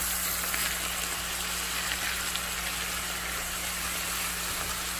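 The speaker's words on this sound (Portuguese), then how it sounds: "Ela está refogando." Pepper, onion and tomato sautéing in a pan for a Sunday lunch, giving a steady, dense sizzle with constant crackle that runs unbroken and fairly close throughout.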